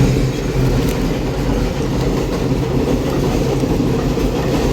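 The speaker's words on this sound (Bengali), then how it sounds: "পাশ দিক থেকে ট্রেন যাচ্ছে যাচ্ছে, এটা একটা থ্রু ট্রেন" A through train rumbles past close by, with a loud, steady roar of wheels on rails that holds for several seconds. No one speaks.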